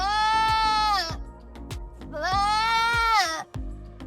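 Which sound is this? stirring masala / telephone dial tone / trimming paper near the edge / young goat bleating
young goat bleating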